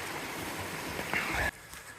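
A steady broadband rush of stream water flowing beside a hiking trail in a state park, continuous and fairly even with no talk over it.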